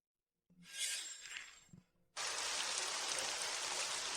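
Heavy rain comes on suddenly as a loud, dense, unbroken roar after an earlier softer hiss with faint clinks and taps; no voices are heard.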